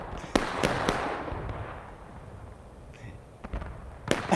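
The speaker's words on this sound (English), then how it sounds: "It looks like they are going to try to fire the cannon once again." Cannon fire in a historical-rules multiplayer war game event, heard as a few sharp booming blasts with rumbling tails, fairly loud, plus scattered distant pops, with no talk over it.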